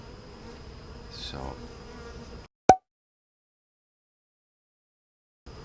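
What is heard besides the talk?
honeybees buzzing in an opened hive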